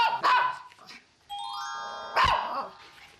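A small Maltese dog gives two sharp, close barks separated by a pause, while a steady electronic chime tone sounds between them.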